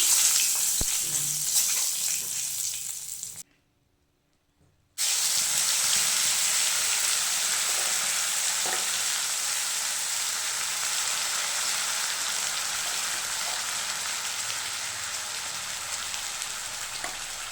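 Steady, loud sizzling of dried chilies and bay leaves frying in hot oil in a wok, broken by a short silence before the crackling resumes and continues evenly.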